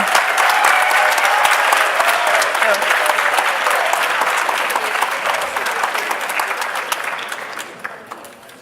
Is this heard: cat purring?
no